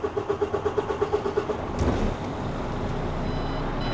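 A tractor unit's diesel engine cranks with a rapid rhythmic starter whir, catches and settles into a loud, steady idle, close by.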